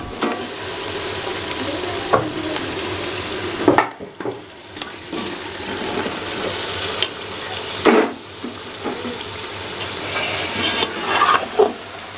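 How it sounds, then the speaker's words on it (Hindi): Chicken feet frying in masala in a pan, a continuous sizzle broken by repeated stirring scrapes and clunks of a spoon against the pot, close and fairly loud with no speech. "पंजों को मसाले में फ्राई करेंगे।"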